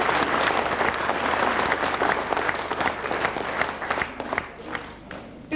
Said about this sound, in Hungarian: És kérnék szépen még egy tapsot a művészeti vezetőknek és a koreográfusoknak